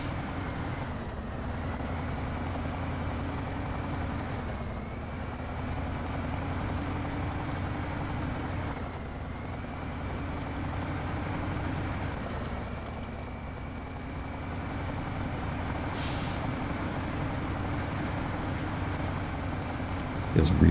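A heavy truck engine in the video game SnowRunner hums in a steady low drone throughout, rising slightly in pitch at moments, with someone talking over it.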